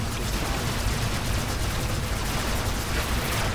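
Gunfire in the video game Robocraft, a dense continuous barrage of rapid shots, loud and unbroken, with no talk.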